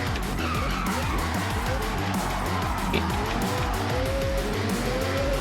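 Mazda RX-7 in the Forza Horizon 6 racing game, its engine droning steadily while the tires skid and squeal continuously through a slide, loud and close throughout.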